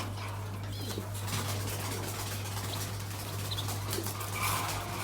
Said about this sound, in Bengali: কবুতরটা কি করতেছে আমার সাথে মানে ও খাওয়ার জন্য অস্থির হয়ে গেছে